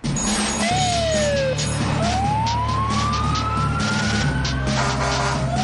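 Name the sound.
fire engine siren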